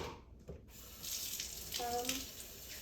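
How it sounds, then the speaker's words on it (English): Tap water runs steadily over a soap mold in a sink during soap making, a continuous hiss of flowing water with a brief gap near the start before it resumes and holds. "Keep running water over it, it'll melt."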